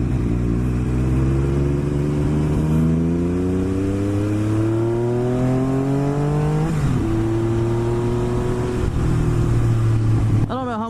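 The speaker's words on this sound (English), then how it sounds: "the sound of these speed triples is absolutely fantastic. Triumph does make an excellent motor." A Triumph Speed Triple motorcycle engine drones loud and close, its pitch climbing steadily through the gears with a brief dip at each shift, while a voice talks over the riding noise.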